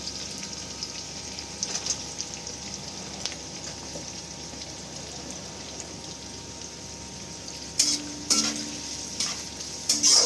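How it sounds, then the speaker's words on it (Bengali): Mixed vegetables with grated carrot stir-fried in a pan for veg chowmein give off a soft, steady sizzle, with occasional louder scraping stirs toward the end. "সব সবজিগুলো একটু নরম হওয়া অবধি ভেজে নিতে হবে।"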